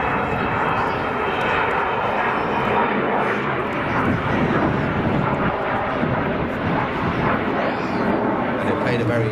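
An Avro Vulcan XH558 bomber displays at a Scottish airshow, its engines a loud, sustained roar that fills the air without a break, with voices present over the top.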